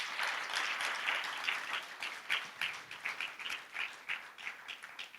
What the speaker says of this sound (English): Can we give them a hearty clap?